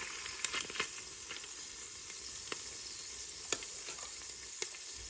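Chicken chili with beans and seasoning simmering on low heat in a pot: a faint, steady hiss broken by scattered small pops and bubbles, with no talking.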